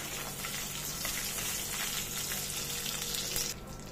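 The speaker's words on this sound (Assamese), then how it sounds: "ইয়াতে দিছো কাজু আৰু কিচমিচ দি গোটেইখিনি ভালদৰে ভাজি লৈছো" Cashews and raisins sizzle steadily in hot oil with bay leaf, cloves, cardamom and cinnamon for a pulao, a close, constant frying crackle that eases off at the very end.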